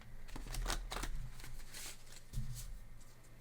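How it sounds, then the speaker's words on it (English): A large oracle card deck being shuffled by hand gives soft, close riffling and sliding bursts of cards, quiet and irregular, with faint low rumbling beneath. "I love this oracle deck, but it's sort of huge for my hand"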